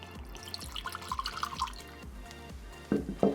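Don Julio Reposado tequila is poured from the bottle into a glass. Quick liquid glugs and drips run for a few seconds, close and moderately loud, and end with a couple of heavier splashes.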